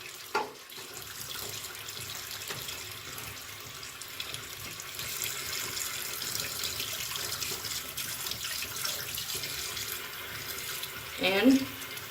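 Tap water runs steadily into a sink while a makeup brush is rinsed, a soft continuous splashing flow at moderate distance with a brief louder gush near the end.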